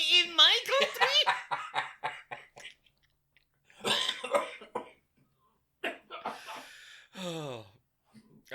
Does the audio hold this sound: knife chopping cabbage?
no